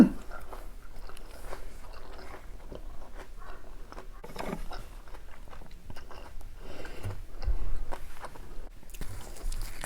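Someone eating raw fish sashimi and squid, with soft, wet chewing and small bites and squishes repeating close to the mic in a quiet room, plus a slightly louder crunch near the end.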